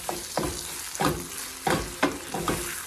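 Chicken vegetable stir fry being stirred in a hot pan, with repeated scraping strokes of a spatula over a constant sizzle, about six distinct stirs in quick rhythm, close and fairly loud.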